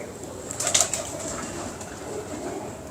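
Pigeons coo softly beneath a steady background hiss, with a brief brighter flurry, like a wing flutter, near the start.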